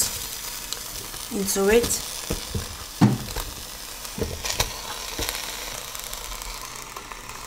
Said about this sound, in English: Now I'm adding my mushrooms